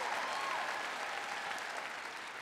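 A church audience claps in a dense, steady wash of applause that holds evenly from start to finish, with no voices rising above it.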